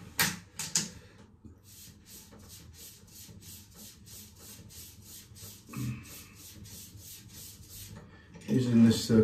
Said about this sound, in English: I'm just going to get a few strokes on the cord of the leather.